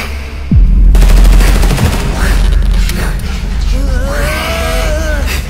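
Gunfire in a zombie short film: a sharp burst of rapid automatic shots rings out, followed by crackling shots and a wavering creature-like wail, with a voice speaking over part of it.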